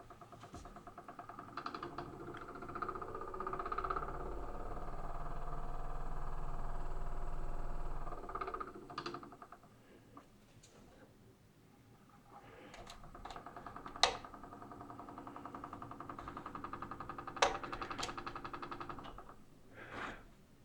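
A homemade guitar pickup winder hums with a low motor drone that rises and falls as its speed is adjusted, with scattered clicks and taps over it.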